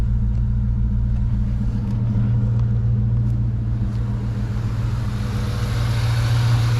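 A Ford Mustang engine with an idle problem runs at a steady low idle just after starting, a constant close rumble with even hum and slight wavering, alone with no talk.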